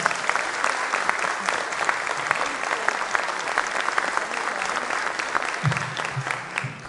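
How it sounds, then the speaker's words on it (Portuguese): An audience at a lecture claps throughout, a dense, even burst of many hands that holds steady without cheering or speech. "Uma salva de palmas."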